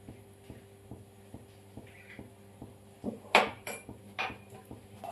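A spoon clinks and scrapes against a hot pan as a spoonful of ghee goes in, with one sharp metallic knock and a few lighter taps over a quiet, steadily ticking kitchen background.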